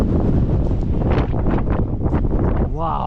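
Strong wind buffets the microphone on the exposed cliff path at the Giant's Causeway, a loud continuous roar with rushing gusts filling the short stretch.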